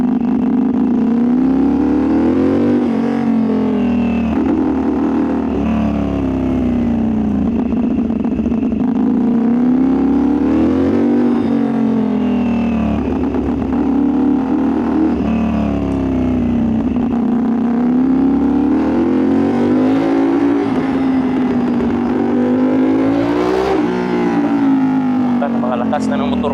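A 450SR motorcycle fitted with an auto-tuned quickshifter pulls hard through its gears, the engine note climbing and dropping in repeated surges, loud and close throughout, with someone speaking over it.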